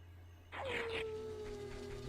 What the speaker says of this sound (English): wait for that wolf howl